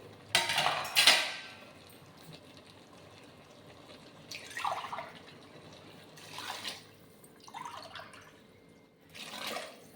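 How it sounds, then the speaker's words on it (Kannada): Water is poured in several separate splashing bursts into a pan of fried vegetables for vegetable pulao, heard up close against a quiet kitchen background. "ಇದಕ್ಕೆ ಇವಾಗ ನೀರು ಹಾಕ್ಕೋತೀನಿ."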